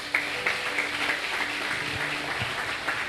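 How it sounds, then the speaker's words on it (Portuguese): A church congregation applauds together, a moderate, even spread of clapping hands lasting a few seconds with a faint organ-like tone held underneath. "Vamos aplaudir a Jesus."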